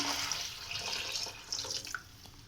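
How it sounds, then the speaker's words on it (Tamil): Water poured from a vessel into a pot of soaked moong dal for a Bathua greens dal curry, a steady close splashing and gurgling stream lasting a couple of seconds with no talk. "இதில் நான் 1 செம்பு தண்ணி ஊற்றுறேன்"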